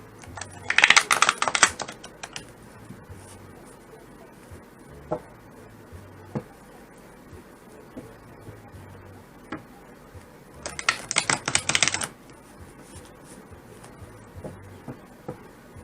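Two quick bursts of crisp riffling as tarot cards are shuffled close by, separated by a long quiet stretch with occasional soft taps and clicks.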